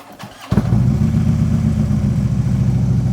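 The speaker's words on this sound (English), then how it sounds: "we're gonna start the bike up in neutral" A motorcycle started in neutral: a brief starter whirr, then the engine catches with a sharp burst and settles into a loud, steady, close idle rumble with no voices.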